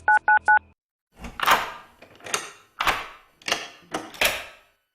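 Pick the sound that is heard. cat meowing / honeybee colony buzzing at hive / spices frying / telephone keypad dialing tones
telephone keypad dialing tones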